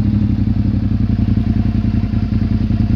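A 2005 Suzuki SV650 N motorcycle with a Devil exhaust idles steadily up close, its exhaust giving a rhythmic, low, thumping putter that never changes pace.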